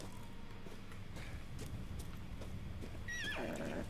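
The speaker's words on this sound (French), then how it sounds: "Un cheval qui n'est pas mort." A horse in Resident Evil Village whinnies loudly near the end, a rising then falling neigh, after a stretch of muffled hoof clops over a steady game-world ambience.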